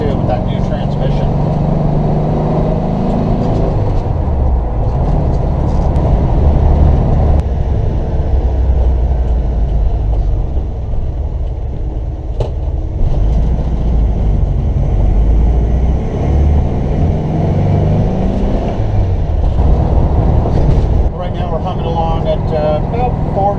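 A 1969 Volkswagen Westfalia camper van cruising at about 45 mph in fourth gear, its engine a steady low drone with road rumble throughout, loud and continuous, while a person talks over it.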